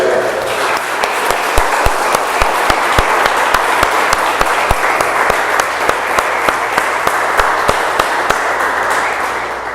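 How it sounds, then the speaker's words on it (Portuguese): Church congregation at a Mother's Day service breaking into loud, sustained applause, a dense clapping roar with sharp individual claps close by, continuing steadily for several seconds. "Quem vai remar para o mesmo lado aí, dá um glória a Deus e aplauda ao Senhor."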